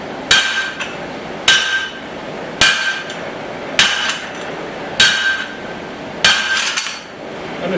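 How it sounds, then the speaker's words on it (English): Hot steel struck on a guillotine tool while forging a small axe, with six sharp ringing hammer blows landing at an even pace about every second and a quarter, each followed by a short metallic ring and some low shop background between strikes. "Just like my fourth heat using the guillotine tool here"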